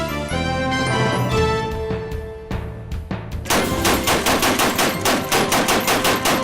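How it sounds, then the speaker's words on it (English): A Gatling gun fires in a rapid, even burst of loud, close shots after a brief lead-in of ringing mechanical tones. "The Gatling gun could fire 100, even 200 rounds across the battlefield"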